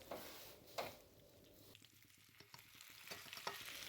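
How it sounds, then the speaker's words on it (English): Beef curry simmers quietly in a lidded pan, a faint bubbling and soft sizzle punctuated by a few light clicks and taps near the start. "Place a lid over the pan and let it simmer for some time."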